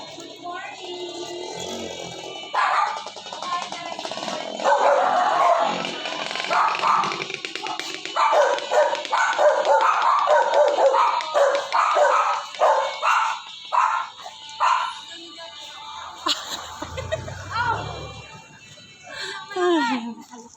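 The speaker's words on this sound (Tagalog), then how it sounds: "Ay, may aso." A dog barks repeatedly outdoors along a residential street, the yips and barks fairly near and intermittent, mixed with people talking and passing background noise.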